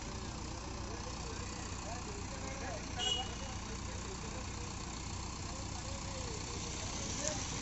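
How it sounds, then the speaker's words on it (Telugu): A tractor engine idles and runs at a steady, moderate level while a JCB loads it, a continuous rumble with a brief louder clunk midway and voices talking faintly in the background. "లోడ్ అవుతుంది ట్రాక్టర్."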